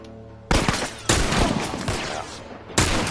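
Rifle fire from a scoped rifle in The Last of Us on PS4 bursts out in three loud, booming shots spaced about a second apart, each ringing into a long decaying rumble.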